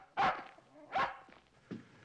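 A dog named in a crime drama barks three times in close succession, loud and near, with short gaps and no talk over it.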